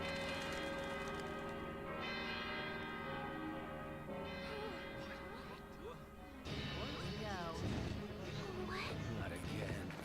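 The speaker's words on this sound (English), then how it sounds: "Those bells mean you've been summoned to battle." Church bells ring in the video game Valkyria Chronicles 2, sustained resonant tolling with layered ringing tones under background music and game sounds, with voices speaking over them.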